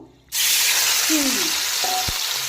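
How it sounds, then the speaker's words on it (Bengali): Prawns coated in salt, turmeric and raw mustard oil hit hot oil with dried chillies and bay leaf, bursting into a loud, steady sizzle that holds after a sudden start, with a few faint clinks underneath. "চিংড়িগুলোকে বেশ কিছুক্ষণ তেলের মধ্যে মিডিয়াম ফ্রাই করে নেব"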